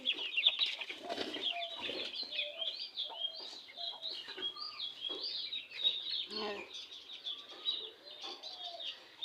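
Backyard chickens let out of their coop one by one: steady clucking, chirping and fluttering wings, fairly soft and continuous, with a few louder squawks.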